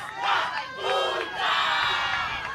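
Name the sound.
Namibian crowd cheering after winning a volleyball set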